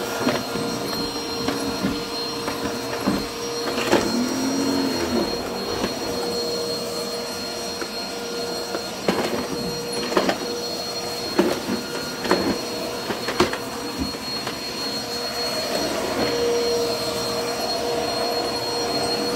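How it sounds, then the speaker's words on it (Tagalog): A vacuum cleaner drones steadily with a whining motor, punctuated by occasional bumps and scraping as it moves across a bathroom rug picking up dog hair. "Unahin ko muna siya pag vacuum yung rag ng CR."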